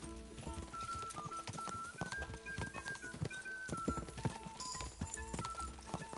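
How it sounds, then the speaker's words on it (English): A horse gallops in the video game Kingdom Come: Deliverance II, steady clip-clop hoofbeats running under game music and shouted voices, mid-level and continuous. "O cavalo é lento, mano."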